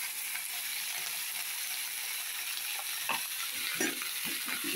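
Vegetables seasoned with salt and turmeric fry in hot oil with a steady, close sizzle, broken by a few sharp scraping clicks of stirring near the end.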